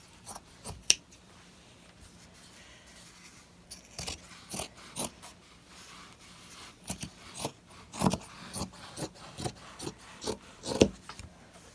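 Scissors cut through an old cotton convention t-shirt in a string of close, crisp snips at an uneven pace, with faint fabric rustling between cuts.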